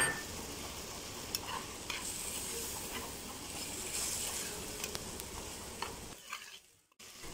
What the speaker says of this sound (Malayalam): നെല്ലിക്ക ചേർത്ത് നമുക്ക് നന്നായിട്ടൊന്ന് ഇളക്കിയെടുക്കാം.